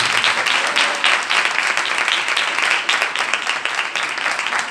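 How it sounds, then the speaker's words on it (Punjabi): Loud, steady applause from a church congregation, many hands clapping together close and full for several seconds without a break. "ਜ਼ੋਰਦਾਰ ਤਾੜੀਆਂ ਮਾਰੋ"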